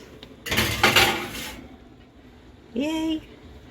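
A baking tray loaded with nachos topped with Monterey Jack cheese and jalapenos is pushed into a home oven, giving a burst of metallic clatter and scraping up close, followed by a short tonal squeak or clink.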